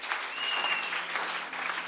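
A church congregation claps together during a French-language worship service, brisk, dense applause with a faint tone above it, filling the room for a couple of seconds.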